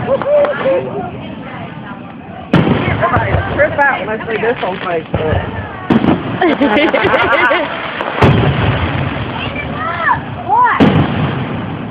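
Fourth of July fireworks in Porterdale, 2011, go off as repeated loud booming bursts at irregular intervals, while people nearby talk throughout.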